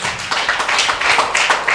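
A church congregation claps in quick, uneven bursts, a short patter of hands that is fairly loud and close, with no talk over it.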